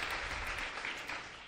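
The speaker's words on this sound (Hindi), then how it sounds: "बेटी के लिए बहुत बहुत ताली बजा करके मैं उनका स्वागत करता हूँ" Applause from an audience welcoming a girl at a spiritual gathering, a brief, fairly faint burst of clapping that fades out over about a second and a half.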